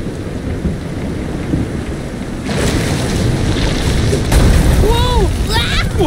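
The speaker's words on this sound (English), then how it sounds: "This is some storm." Stormy weather in the Visions of Mana action RPG, with steady rain and rumbling thunder swelling louder midway, as a sea voyage on rough waves plays out; game tones and brief voice sounds rise near the end.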